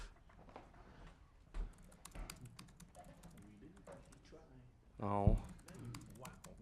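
Quiet clicks of someone typing on a computer keyboard at a desk, brief taps scattered among soft speech, with a louder burst of rapid keystrokes near the end.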